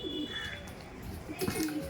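Madrasi pigeons coo softly after being released, a few low murmuring calls near at hand against a steady background hum.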